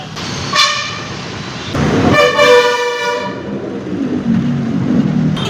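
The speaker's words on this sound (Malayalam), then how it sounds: "വാഹനങ്ങളുടെ എല്ലാം സൗണ്ട് കേൾക്കാൻ ഒരു പ്രത്യേക രസമുണ്ട്. ഒരു എക്കോ പോലെ ഫീൽ ചെയ്യുന്നുണ്ട്" Traffic rumbling under a flyover with several loud vehicle horn blasts, one short toot and then a longer sustained honk, ringing with echo against the hard surroundings over a continuous engine roar.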